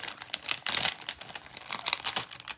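Cellophane envelope crumpled and crinkled by hand, a dense run of crisp, close crackling bursts lasting throughout with no talk.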